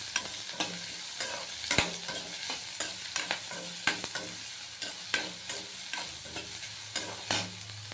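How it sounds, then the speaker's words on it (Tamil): Onions with green chillies and curry leaves sizzle and sauté in a pan, with repeated scraping stirs of a spatula over a steady frying hiss; no voices. "இப்போ வெங்காயம், பச்சை மிளகாய், கருவேப்பிலை போட்டு அது கொஞ்சம் கண்ணாடி பதம் வர வரைக்கும்"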